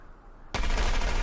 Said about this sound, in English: Is this 5 seconds of gunfire the entire shootout when not in slow-mo?